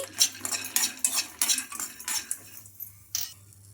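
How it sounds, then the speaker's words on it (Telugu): Roasted gram dal, peanuts and chopped ginger are stirred in a pan, with repeated close scraping and clinks of a spoon against metal over a light background sizzle, then a short pause and one more scrape. "ఈ పుట్నాల పప్పు అలాగే పల్లీలు బాగా ఫ్రై అవ్వాలి"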